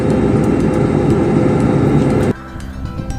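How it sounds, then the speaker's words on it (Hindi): Cabin hum of an airliner descending at night on a Mumbai to Delhi flight: a loud, steady low engine drone that suddenly drops to a quieter, thinner whine partway through. "ऐसा लग रहा है कि हवाई जहाज़ नीचे जा रहा है"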